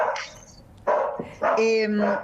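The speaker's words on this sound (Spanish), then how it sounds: "Tengo mi perro acá." A dog barks several times close by indoors, with whimpering yips between the barks, heard over and around someone speaking Spanish.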